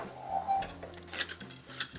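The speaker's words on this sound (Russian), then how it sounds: "Включаю плиту, разогреваю сковородку" Frying pan set onto a stove in a home kitchen while it heats, a few light metallic clinks and clatters close by, with short knocks and no voices.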